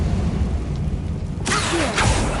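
Bombarda and Confringo spells go off in a catacomb in the video game Hogwarts Legacy: after a quiet stretch, a sudden loud blast erupts midway and rumbles on, with a second burst following close behind.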